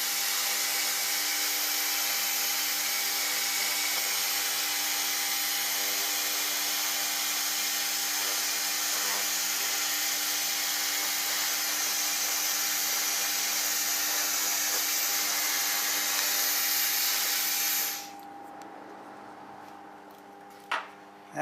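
A 1000W AccTek fiber laser cleaning machine scanning a metal surface gives a steady, loud, hissing whine for about eighteen seconds, then cuts off abruptly, leaving a quiet room with a couple of faint knocks.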